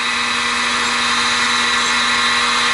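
A single-flute indexable end mill cuts metal on a milling machine, a steady loud high whine with a constant tone, close and uninterrupted, with no talking.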